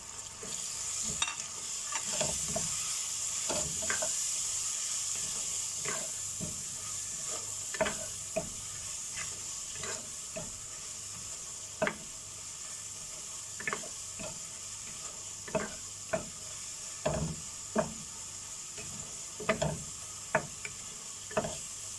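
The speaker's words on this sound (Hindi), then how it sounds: "थोड़ा पानी डाल के मसाला को ज़रा भूनेंगे।" Masala with chili flakes, turmeric, cumin, garam masala and salt fries in a pan for chana pulao, giving a steady sizzle broken by frequent scraping spoon strokes and clinks.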